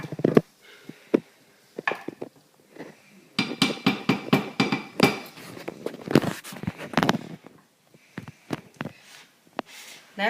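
Fudge mixture being stirred in a bowl gives off close, irregular clinks and knocks of a utensil against the container, bunched into quick runs with short pauses and no talking.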